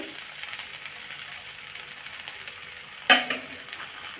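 A spoon stirs sabudana khichdi with peanut powder in a pan, with a low sizzle running underneath and a distinct scrape and clatter near the end, close and moderately loud.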